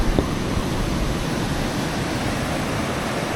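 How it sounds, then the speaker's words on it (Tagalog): Strong surf on a rocky shore during the northeast monsoon roars as a constant, dense wash of noise, loud and close, with no voices. "ngayon talaga pag may amihan sobrang lakas ng alon"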